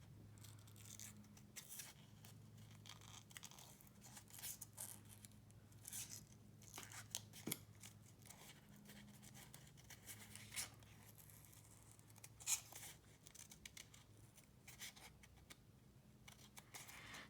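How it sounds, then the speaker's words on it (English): Scissors do fussy cutting around the edges of paper for a decorative craft, a faint run of small snips and crisp paper rustles spread irregularly through a quiet room, with no one talking. "I'm just going to do some fussy cutting around here"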